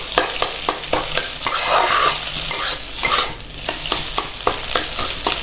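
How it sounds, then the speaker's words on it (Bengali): Eggs and chili frying in a pan, a loud continuous sizzle with a quick run of regular scraping stirs, briefly swelling into a fuller hiss midway. "এটাকে ভালো করে লাল লাল করে ভেজে নেব"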